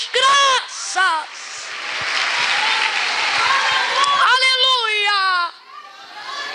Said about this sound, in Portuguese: Misture essas palmas com graças a Deus